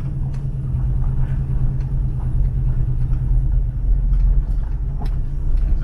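A 1968 Ford Mustang GT Fastback pulls away over dirt, its engine a steady, loud low rumble that holds through the whole stretch with small surges and no voices.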